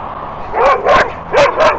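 Dogs bark close and loud at an electric unicycle's wheels, four or five quick, sharp barks in a short burst.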